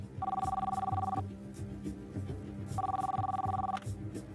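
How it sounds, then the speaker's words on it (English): Telephone rings inside a house in two long, clear bursts of an electronic trill with a pause between, heard indoors over a low hum and faint background movement. "Phone rings in the house."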